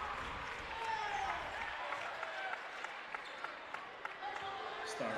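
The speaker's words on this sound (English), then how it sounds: "Stars crowd cheering for their defense here on homecoming night, trying to get the win" Home crowd noise at a varsity boys high school basketball game on homecoming night, a steady roar of cheering and clapping that fills the gym throughout, with faint voices mixed in.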